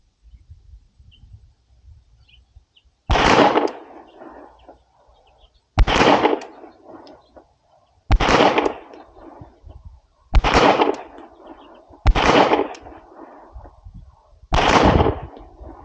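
Six sharp gunshots fired at a target from 5 yards, spaced a few seconds apart, each a loud close crack with a short decay, over quiet background and no talk.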